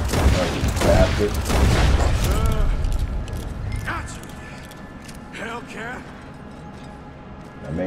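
Gunshots fired at a cougar in Red Dead Redemption 2 crack loudly in a quick cluster early on, followed by quieter game sounds while a player talks excitedly throughout.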